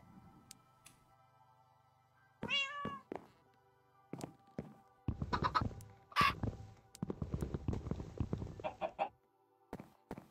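Chickens in the video game Minecraft give scattered clucks and squawks amid cat meows and sharp clicking game noises, in irregular bursts over a quiet background.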